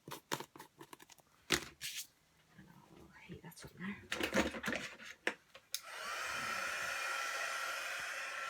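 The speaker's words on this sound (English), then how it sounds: "I tend to let my heat gun just warm for a bit rather than keep going on the card with it" A heat gun starts with a steady, close whoosh to melt gold embossing powder on a handmade autumn card. Before it starts there are scattered taps and rustles of handling, with soft talk.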